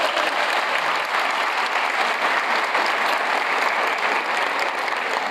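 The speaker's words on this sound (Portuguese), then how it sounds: "Palmas para você." Steady, even audience applause at a talk on autism and school inclusion, a thick wash of many hands clapping without pause for several seconds, with no speech over it.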